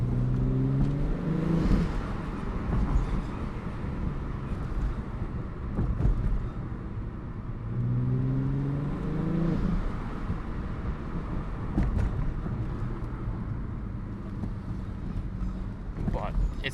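Audi B5 S4 with an SSAC exhaust revving in two rising sweeps and dropping back to a rumbling idle, loud and close with wind buffeting, occasional sharp pops, and talk over parts of it.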